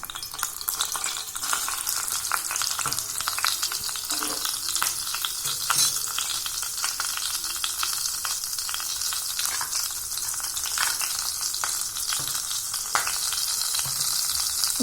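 Fennel seeds crackle and sizzle in hot oil in a kadai, a bright continuous frying hiss with scattered sharp pops, fairly close and unaccompanied by speech.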